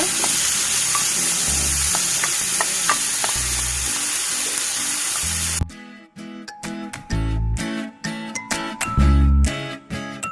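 Carrots and potatoes frying in a pan for fried cakes, loud steady sizzling with spatula stirring and scraping, then sharper intermittent clatter and sizzle bursts.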